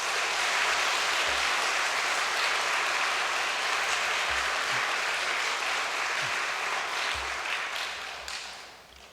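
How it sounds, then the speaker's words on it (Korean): An indoor church congregation gives sustained applause of encouragement and comfort, a dense, even wash of many hands clapping that holds steady before fading out at the end. "섭리의 어머니국 일본을 위해서 격려와 위로의 박수를 보내드립시다."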